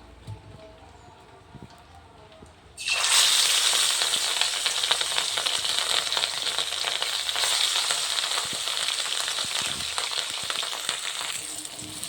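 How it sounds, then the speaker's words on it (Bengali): Fish rubbed with salt and turmeric dropped into hot oil in a wok, bursting into a loud, dense sizzle after a quiet start and crackling steadily to the end. "এবার এদিকে তেল গরম হয়ে গেছে, এবার মাছগুলো দিয়ে দেবো।"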